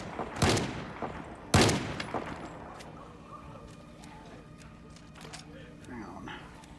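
A shotgun fires twice in the Project Zomboid video game, two sharp, loud blasts about a second apart, after which quieter game sounds and faint talk continue.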